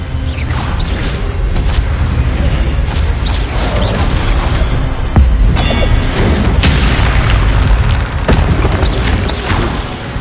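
Spell-casting blasts from the Hogwarts Legacy video game sound as a dense, loud barrage of booms and whooshing bursts, with heavy low-end impacts layered almost continuously and a few sharper cracks standing out.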